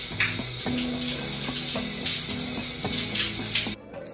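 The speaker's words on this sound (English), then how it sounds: "I'm about to rinse that off and then I'm hopping to a shower" Tap water runs in a steady, full hiss with splashing as a face mask is rinsed off, close and continuous until it abruptly drops away near the end.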